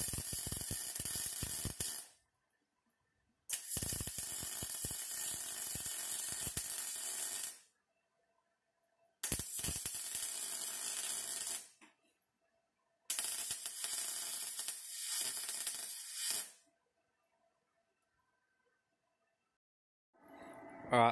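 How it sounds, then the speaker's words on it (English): A welder runs a bead around a car part for a Ford Focus XR5 Turbo ST225. There are four long bursts of close, harsh, crackling hiss, each a few seconds long and separated by silent pauses. "Now I'm going to run a bead around it"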